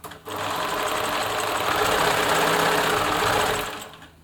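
A Bernina Nova 900 electronic sewing machine stitches fabric at a short stitch length, a steady fast whirring hum that starts abruptly, runs evenly for about three seconds and then winds down.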